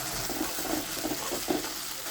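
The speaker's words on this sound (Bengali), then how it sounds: "এবার রসুন আদা বাটাটা দিয়ে দিচ্ছি।" Garlic-ginger paste sizzles in hot mustard oil with a steady crackling hiss, close and fairly loud throughout, with no talking.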